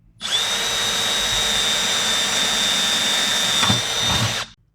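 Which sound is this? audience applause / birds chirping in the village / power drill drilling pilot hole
power drill drilling pilot hole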